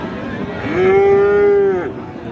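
A single long, loud moo from a Friesian or crossbred bull calf at a rural cattle market in Ghoraghat, Dinajpur, rising and holding steady for about a second before fading, over steady market background noise.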